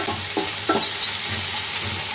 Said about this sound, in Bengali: পেঁয়াজ আর রসুনটা আমার লাল করে ভাজা হয়ে গেছে